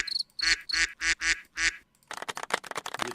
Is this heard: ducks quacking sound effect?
yes